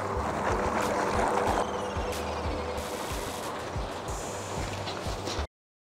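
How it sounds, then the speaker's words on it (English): A remote-controlled bait boat sails out across the water. A steady motor whir blends with lapping and splashing, and scattered knocks sound before everything cuts off abruptly. "we press the 2 and the boat will sail itself to our feeding point"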